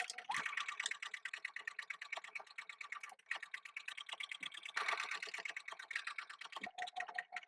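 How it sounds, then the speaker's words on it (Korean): A sewing machine stitches the seams of a fabric shoulder bag in fast, even bursts of mechanical rattling, nearby and steady, with brief stops between runs. "창구멍을 제외한 나머지를 1cm 간격으로 박음질 하겠습니다."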